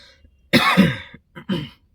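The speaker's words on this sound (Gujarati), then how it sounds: "ખાંસી છે ને જતી નહીં મળે અત્યારે ઠંડુ વાતાવરણ છે એટલે ખાંસી વધારે જ છે" Two harsh coughs close to the listener, a longer chesty one followed by a shorter one, separated by a short pause.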